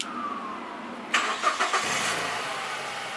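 A car engine cranks and catches about a second in, sputtering briefly before settling into a steady idle.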